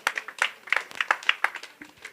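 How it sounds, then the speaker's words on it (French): A small audience at a student conference claps with uneven, sparse hand claps for a couple of seconds, nearby and fairly light, with no voices over it. "Vos applaudissements encore une fois pour le président de l'UDI."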